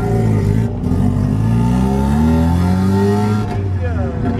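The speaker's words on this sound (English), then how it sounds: "RX-7, oh my god, this thing is loud." A loud Mazda RX-7 leaving a car show, its rotary engine droning and rising in pitch as it revs and pulls past, close and continuous, with faint voices of onlookers underneath.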